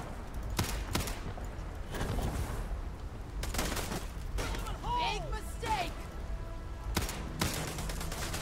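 Gunfire in the Starfield video game: repeated sharp shots and bursts across the whole stretch, loud and close, mixed with in-game thuds, whooshing effects and voices talking throughout.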